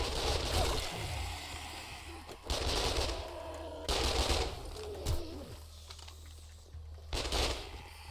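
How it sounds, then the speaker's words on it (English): Rapid bursts of SMG fire in a video game, loud automatic volleys repeating in several separate strings with short pauses between them. "glad I have my new fancy SMG that just wrecks things"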